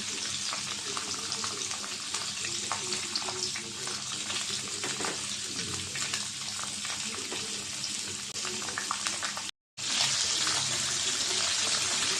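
Catfish hitting a hot tawa (flat griddle) sets off a loud, dense, continuous sizzle up close with a steady crackle, cut by a sudden brief silence near the end before the frying noise resumes.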